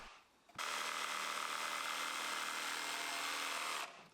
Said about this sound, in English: I can clean up the ends of those cuts with the jigsaw.